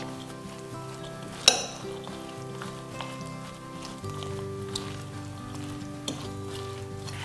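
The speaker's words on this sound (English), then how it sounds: "now all you want to do is mix the sauce with the vegetables" Chopped purple cabbage salad vegetables being tossed with sauce in a bowl, with soft wet stirring and a few clinks of utensil against the bowl, one sharp clink early on, over a steady background hum.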